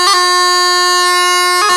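Bagpipe E doubling with the G grace note placed on the beat, a quick grace-note flick at the start and again near the end, framing a steady loud chanter tone over the drone, solo and close.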